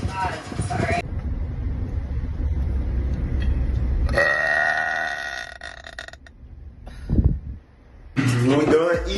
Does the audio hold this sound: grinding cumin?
no